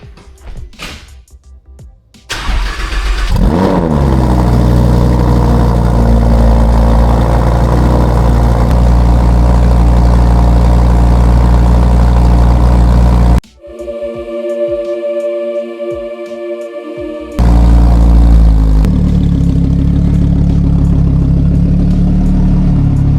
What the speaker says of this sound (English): start this guy up. It'll be a cold start with the garage closed.